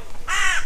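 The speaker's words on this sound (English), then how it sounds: "Noisy crow there." A crow gives one loud, harsh caw near the Southwest coast path by the Bude canal, a single rasping call over light outdoor wind noise.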